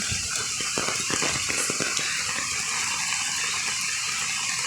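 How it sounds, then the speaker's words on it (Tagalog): Constant heavy rush of falling rain, dense and unbroken, like a hard downpour close by, during nonstop rain with flooding. "Tapos ngayon, maulan pa rin."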